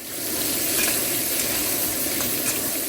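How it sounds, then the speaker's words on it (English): Garlic, fresh chilies and chopped pickled vegetables sizzle steadily in hot oil in a wok for mala pork ribs, a loud, close, continuous hiss with faint stirring scrapes. "The garlic is hitting the hot oil."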